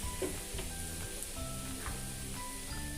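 Kolhapuri chili powder hits hot oil with bay leaves, making a quiet, even sizzle that carries on throughout with faint tonal sounds in the background.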